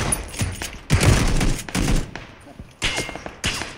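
Bursts of gunfire ring out in a PUBG Battlegrounds squad match, with several separate volleys of rapid shots, some loud and close, others thinner and more distant, broken by short quiet gaps.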